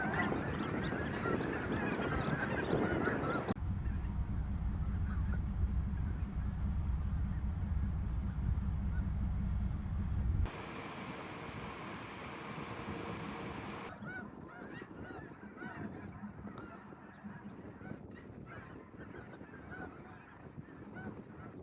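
Flocks of geese and ducks honking at an Arkansas hunt, a dense chorus of overlapping honks and calls, loud at first, then thinning out and growing fainter.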